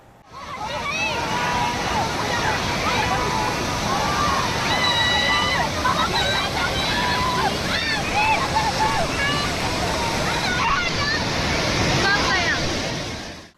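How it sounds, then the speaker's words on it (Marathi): A rushing waterfall stream behind Bhushi dam near Lonavala pours loud and continuous in a dense wash of water noise that holds steady throughout, with voices shouting and calling over the torrent. "लोणावळ्याजवळील भुशी धरणाच्या मागील बाजूस असलेल्या धबधब्याच्या प्रवाहात पुण्यातील अन्सारी कुटुंबीय अडकले"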